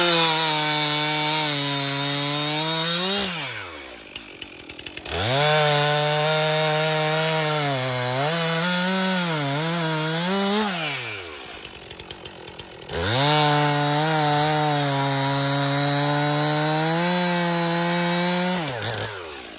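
Chainsaw with a freshly sharpened chain cutting into a firewood log, engine roaring loud and close in three long cuts, dropping to idle between them, with no talking.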